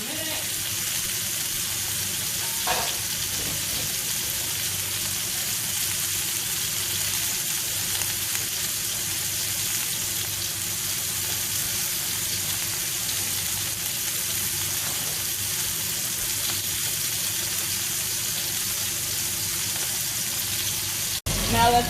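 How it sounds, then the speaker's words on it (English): Steaks searing in a cast iron skillet give a steady, loud sizzle and crackle that holds unbroken from start to finish, with no talk over it. "So I'm going to place the steaks away from me on the skillet, the cast iron. And I'm going to let this go ahead and sear for a few minutes."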